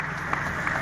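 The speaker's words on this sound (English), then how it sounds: "And big round of applause." Crowd applause at the finish of a bunch-sprint stage of a cycling race, the Tour of the North, a brief steady wash of clapping heard from a distance.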